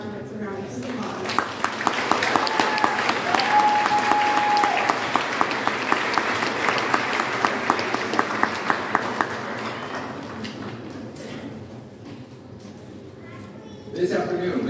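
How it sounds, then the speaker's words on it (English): An audience at a graduation ceremony for medical assistant and vocational nurse graduates breaks into sustained, loud applause that fades after about ten seconds, with a few scattered claps and a voice at the end. "let's give these graduates a round of applause"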